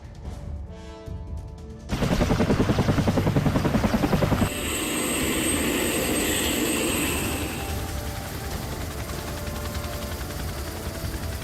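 A military helicopter passes close by, its rotor chopping in a loud rapid thump before easing into a steady, roaring engine whine that slowly fades.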